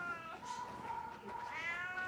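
Faint, drawn-out cat meows at a humane society shelter, two or three rising calls in a quiet room.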